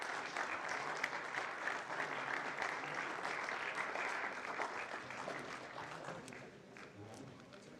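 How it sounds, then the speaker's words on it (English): Audience at an entrepreneurship summit applauding sponsors called on stage, steady full-room clapping that holds throughout and tapers slightly at the end. "These are our sponsors, man. Better clap."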